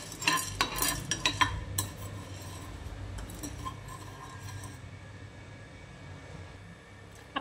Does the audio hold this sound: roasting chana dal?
yes